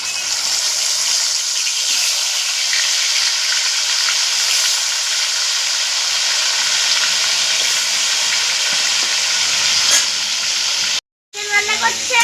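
Chicken pieces fry in hot oil for chicken changezi, a loud, steady, close sizzle and hiss running throughout, briefly cutting out near the end before resuming.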